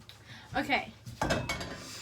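A few clattering knocks of metal pans and cookware, close and brief, in two quick bursts.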